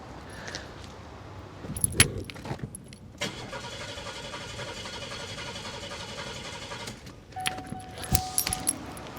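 A Buick with a suspected broken crank sensor, keys jangling in the ignition, then a steady mechanical whir of the engine turning over for several seconds without catching, close and alone.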